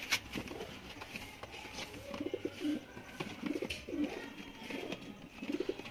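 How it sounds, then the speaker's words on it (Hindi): Soft pigeon coos repeat in low, rolling phrases, several birds close by, with light fluttering and pattering between calls. "वाकई कबूतर का बच्चा है"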